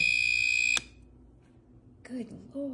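An egg boiler machine sounds a loud, piercing electronic alarm tone when the eggs are done, held steadily for under a second before cutting off. Then comes a near-quiet stretch, and a voice speaks at the end.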